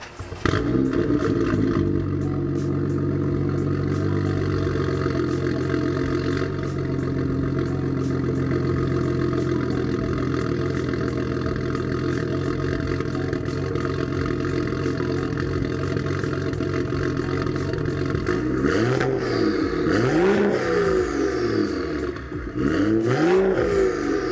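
A BMW F30 with its exhaust resonator removed revs and idles loudly and close up, a steady deep drone swelling into two sharp rising-and-falling revs near the end, with no talking.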